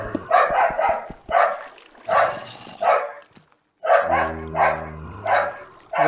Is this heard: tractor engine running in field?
no